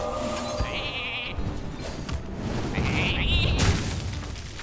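Cartoonish sheep bleats from the Polymorph spell in the Hearthstone video game, two warbling cries over game music and effects with someone talking throughout.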